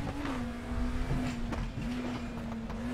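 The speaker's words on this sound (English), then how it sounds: "I'm just downshifting too much. Just like to hear the engine complain." Race car engine in the RaceRoom sim racing game, held at a steady droning pitch with a raspy, strained tone as the driver downshifts, continuous and close with no talking.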